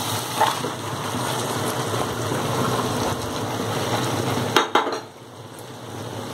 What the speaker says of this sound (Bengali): এবার আমি ম্যারিনেট করা চিকেনটাকে দিয়ে দেবো।